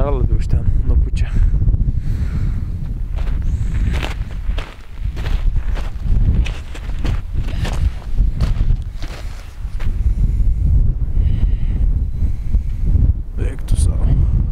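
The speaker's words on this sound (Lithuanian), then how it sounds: "Biški vėjo kryptis keičiasi." Wind blows in strong, uneven gusts near the Villarrica volcano, buffeting the microphone with rough rumbling bursts while a person talks over it.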